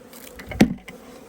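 Honey bees around beehives at feeding time give a brief close buzz that swells sharply and fades within a second, over a faint background hum.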